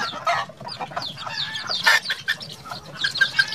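Native Australorp-cross chickens clucking and chattering close by, a busy overlapping flock with short squawks and rising calls throughout.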